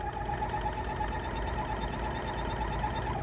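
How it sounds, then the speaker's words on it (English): A sewing machine over-sews the edge of a bridal veil, running with a steady, continuous mechanical whir at a moderate level throughout, with no talking. "Now I've cut, and I'm just going to over sew."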